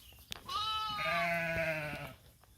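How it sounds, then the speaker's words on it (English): Hair sheep in brush give a single drawn-out, wavering bleat nearby, with a faint click or rustle just before it and no talk. "That brush is full of sheep chewing on stuff that cattle wouldn't even give a second look to."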